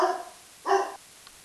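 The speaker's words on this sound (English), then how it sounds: "that was my dog, Tonka." A pet dog barks indoors at home when someone arrives at the door: two short, loud bursts of barking about half a second apart, then a faint brief yip, with no talking.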